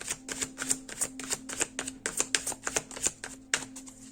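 Osho tarot cards are shuffled and drawn in quick, crisp riffling bursts with soft slaps between them, close and fairly quiet, repeating steadily throughout with no voices.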